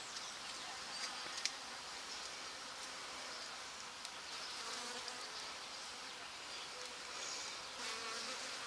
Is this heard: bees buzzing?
yes